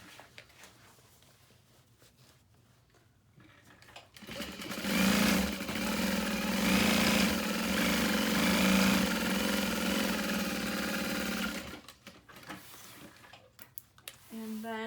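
A sewing machine top stitches through the seam allowance along the top panel of a bag, with a steady rapid mechanical chatter at a long stitch length lasting several seconds, preceded and followed by quiet handling.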